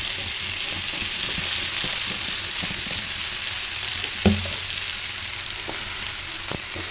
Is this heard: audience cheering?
no